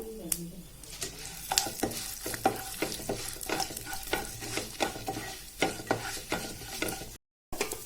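Chana dal and urad dal sautéing in a pan for puliyothara rice, with a soft continuous sizzle broken by repeated rhythmic scraping strokes of the stir, close and moderately quiet.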